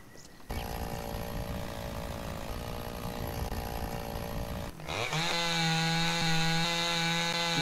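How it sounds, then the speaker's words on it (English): Chainsaw in Farmers Dynasty 2 cutting wood, a steady loud buzzing that jumps to a higher, harsher whine halfway through, close and continuous with no talk. "where's my chainsaw?"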